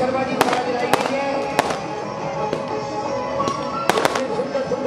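Fireworks go off at a Dussehra festival celebration in Azadpur, giving sharp cracks and bangs over a continuous dense roar of crowd and burning noise, with voices faintly mixed in.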